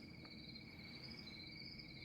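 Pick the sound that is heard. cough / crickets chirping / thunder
crickets chirping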